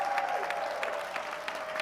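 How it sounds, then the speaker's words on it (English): A boxing match crowd cheers and applauds steadily, a dense wash of clapping and voices heard at moderate distance for a couple of seconds. "The crowd goes wild."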